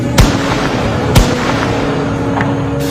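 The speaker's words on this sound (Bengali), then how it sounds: "আবারও গুলির শব্দ।" Gunfire from police rifles near a university main gate during a protest, with two sharp loud cracks about a second apart and a fainter third report later, over steady background crowd noise.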